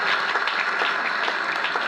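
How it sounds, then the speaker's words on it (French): Guests at a birthday party and opening celebration applaud together, a dense, steady crowd clapping that stays even in level throughout, with no voices standing out. "Est-ce qu'on peut acclamer pour nous-mêmes?"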